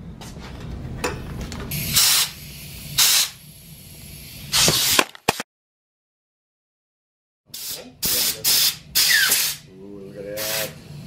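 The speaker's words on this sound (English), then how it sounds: "using my favorite, compressed air" Compressed air blasting to remove the hand grips from a Kawasaki Super Sherpa 250 motorcycle's handlebars, several loud hissing bursts of one to a few seconds, separated by pauses and a stretch of silence, with voices between bursts.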